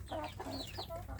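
Young free-range village chickens in a coop make soft, repeated clucking and peeping calls in quick bursts, close and fairly quiet, with no talking.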